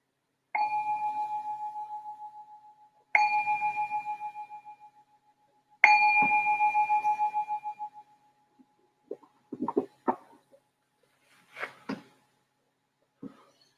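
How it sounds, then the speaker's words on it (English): A meditation bell is struck three times, each clear ring sustaining and fading over a couple of seconds in a quiet room, followed by a few faint knocks and rustles. "I'm just going to ring the bell to signal the start of our meditation"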